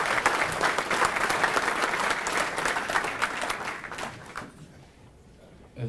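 At a Wounded Warriors in Action fundraiser luncheon, the room claps for standing Purple Heart veterans, dense applause that holds for about four seconds, then fades into quiet room tone.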